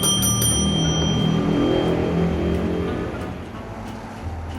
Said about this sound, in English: Is there a bell I can ring?